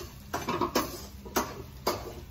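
A utensil scrapes and clinks against a cooking pan while ground meat is stirred in with garlic, four or five short distinct knocks and scrapes, close and fairly quiet, without talk.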